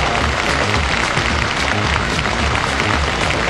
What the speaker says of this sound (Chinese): 我们再次把掌声送给